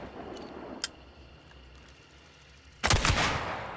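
A single loud, close shotgun blast in the video game Hunt: Showdown comes after a faint click and a stretch of quiet background. It ends in a short, rough tail.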